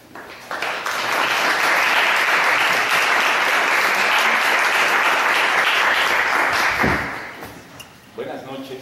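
An audience at an evening literary event applauds in a dense, steady wash of clapping lasting about six seconds before tapering off, followed by a voice beginning to speak.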